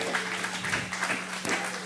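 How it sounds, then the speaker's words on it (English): Audience applause at a community politics talk in a pub setting, a steady patter of many hands clapping at moderate distance, continuous for a couple of seconds. "Give yourself a big round of applause."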